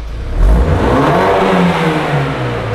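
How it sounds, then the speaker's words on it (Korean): A BMW 3 Series (F30) 320i M Sport revs up loudly nearby, the exhaust roaring and then holding at a rumbling, rising drone. "이 차량 배기음 듣고 가실게요"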